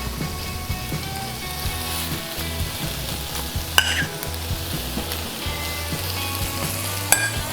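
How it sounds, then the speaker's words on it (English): Beef steak fajitas sizzle in a hot fajita pan with a steady, close crackling hiss. Occasional louder pops and scrapes stand out. "love to hear that sizzle."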